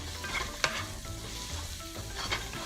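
Masala spices, including Kashmiri red chili powder and cayenne pepper, stirred in a frying pan: a soft, steady sizzle with a couple of scraping strokes, one brief sharper scrape standing out.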